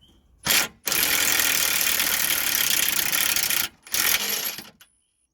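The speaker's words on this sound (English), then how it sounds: "We're using a ring spanner 19 to lock the nut from spinning at the top." A 19 mm nut on the lower suspension control arm of a Mitsubishi Outlander is driven with a tool, giving a loud, sustained mechanical whirr of about three seconds, then a shorter burst before it stops.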